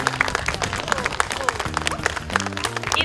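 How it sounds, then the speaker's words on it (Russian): Audience applause at the opening of a televised talent show, lively clapping from a crowd mixed with cheering and music tones underneath, loud and sustained. "А вы, уважаемые зрители, поддержите ребят своими горячими аплодисментами!"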